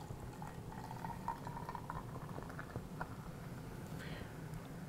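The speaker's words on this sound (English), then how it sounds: "So what we're going to do is just pour it away from the ice." Tonic water is poured into a glass, kept away from the ice, giving a soft continuous fizzing trickle with small bubbling pops, quiet and close.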